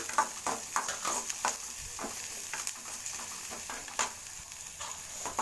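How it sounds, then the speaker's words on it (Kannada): Onions frying in a pan toward golden brown, a steady close sizzle broken by repeated scraping stirs of a spoon, with no talking. "ಈರುಳ್ಳಿನೂ ಸ್ವಲ್ಪ ಗೋಲ್ಡನ್ ಬ್ರೌನ್ ಬರಲಿ"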